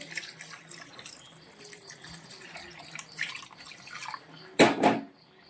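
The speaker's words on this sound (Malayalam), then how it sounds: "നമ്മളിപ്പോൾ വെള്ളമാണ് ഒഴിച്ചു കൊടുക്കുന്നത്" Water splashes briefly into a pot of chicken curry near the end, a short loud pour after quiet kitchen background.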